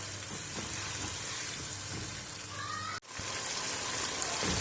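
Chicken fries in nihari masala with a steady, hissing sizzle that runs throughout, briefly cut by a sudden dropout before the frying resumes, a little louder than before.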